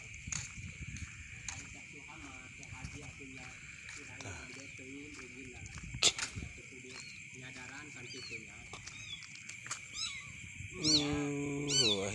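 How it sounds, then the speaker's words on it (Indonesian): Tiny abandoned kittens, still nursing age, give thin high meows on and off, rising into a louder cluster near the end, while people talk quietly nearby. "Dong aya anak suara ucing anak kucing ya."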